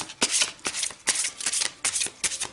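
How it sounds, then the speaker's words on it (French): Oracle cards being shuffled and drawn in several quick riffling bursts, crisp papery flutters repeating at close range with short pauses between, no voices. "Je vais tirer 4 cartes, 2 pour samedi 31 octobre et 2 pour dimanche."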